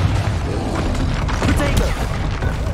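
Confringo fire spell blasts in Hogwarts Legacy, a continuous loud booming, rumbling barrage with crackling bursts, while a voice calls out spell names.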